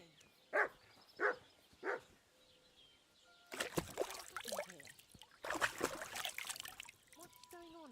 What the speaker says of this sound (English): Barking for nothing.